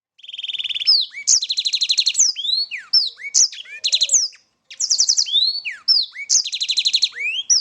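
A male black-throat songbird sings a bright, varied song of rapid trilled phrases and sweeping whistles, clear and close, with short pauses between bursts and no other sounds.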